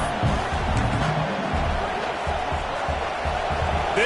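A football stadium crowd roars in a loud, continuous wall of cheering that carries through the whole moment, with a commentator's voice faintly mixed in.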